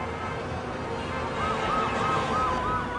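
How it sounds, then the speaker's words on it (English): A passing ambulance siren wails in a repeating rising and falling pattern over loud city traffic noise, growing more prominent midway through. "a passing ambulance siren screamed at 120"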